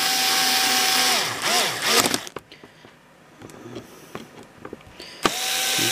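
A power driver whines up to a high, steady pitch, then winds down as screws go into an airsoft M4 receiver. Clicks and ratcheting handling noises follow before the driver spins up again.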